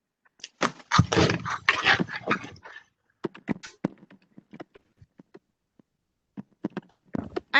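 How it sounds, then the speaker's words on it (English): A dog barks and whimpers in an online meeting, with a dense burst of barks at the start and then scattered single yelps and taps trailing off, fairly close. "Meaning her dog."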